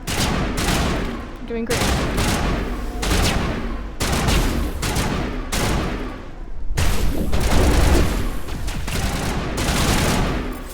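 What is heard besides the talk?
gunfire hitting a wall in the video game Mass Effect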